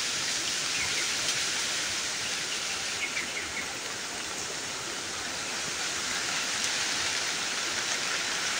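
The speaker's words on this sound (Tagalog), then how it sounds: "malakas yata yung ulan mga idol." A dense, steady hiss of heavy rain pours without letup, loud and even throughout, with no voices.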